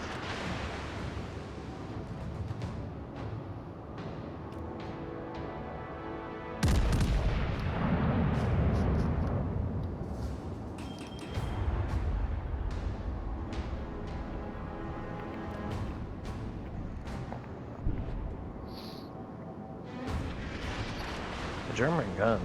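Naval guns firing in the video game World of Warships Legends, Graf Spee versus Dunkerque: deep booming salvos rumble out, one heavy blast sustained for several seconds, with game effects and voices heard throughout.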